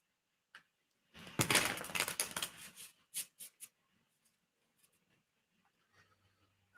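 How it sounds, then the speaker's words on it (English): A tarot deck is shuffled close by in a quiet room: a dense riffle-like burst of card rustling, then a few short sharp taps and soft clicks. "Let me shuffle this a bit."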